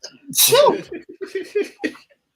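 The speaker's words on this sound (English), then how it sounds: "I'm going to sneeze again, it's coming" One loud sneeze bursts out with a sharp intake and explosive release, followed by a few quiet murmured sounds from the same person.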